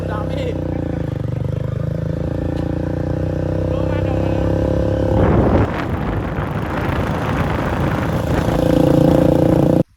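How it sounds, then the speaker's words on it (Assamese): A motorcycle with its silencer cut off runs with a loud, rough exhaust drone that surges into a harsh burst of revving midway, then settles back to a steady throb with wind buffeting the microphone. "আপোনালোকে এতিয়া বাইকখনৰ মাতটো শুনিলে"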